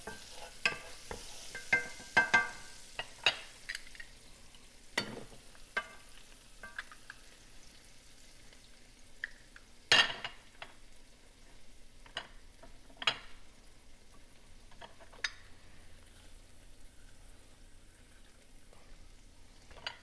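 Lemon juice hits a hot pan while cooking shrimp scampi, giving a soft continuous sizzle broken by scattered sharp ticks and clinks of a utensil stirring, fairly quiet and close, with no voices.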